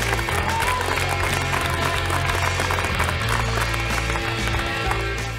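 An audience gives sustained applause at a football coaching event, a steady rumbling wash of clapping that holds from start to finish under a low steady hum.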